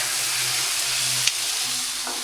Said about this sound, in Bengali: আম্মু এদিকে করলা ভাজি বসাই দিচ্ছে